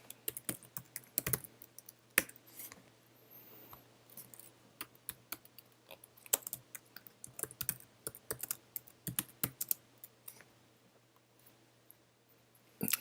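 Typing on a computer keyboard, heard as irregular bursts of crisp key clicks under a faint steady hum, with no voice.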